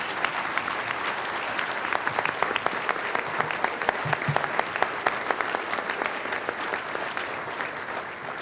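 Audience at the 2007 Father of the Year Awards event applauds in strong, continuous clapping with crisp individual claps standing out, loud and close throughout.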